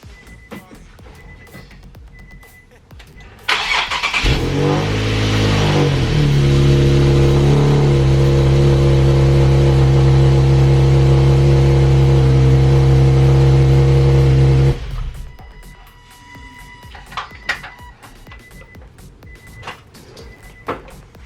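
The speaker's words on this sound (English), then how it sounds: "And now I just need to hook the battery up and do the lovely start the car." A Nissan 370Z cranks and fires up after a fuel pump upgrade, settling into a loud, steady idle with a slight rise in revs that runs about ten seconds before cutting off abruptly, followed by faint clicks.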